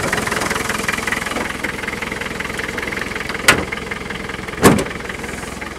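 An older car's engine idling steadily nearby, with a suspected rocker cover gasket or block breather issue, a low even running tone broken by two brief sharp knocks or clicks.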